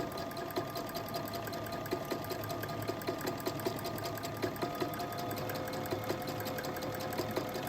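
A sewing machine running steadily through free-motion embroidery, stitching spirals and squiggles to adhere appliqué, its rapid needle chatter continuous and close with faint periodic clicks, no voices.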